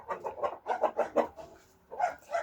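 A broody hen sitting on eggs clucks in a series of close, moderately loud bursts, with a brief lull before more clucking resumes among the other chickens.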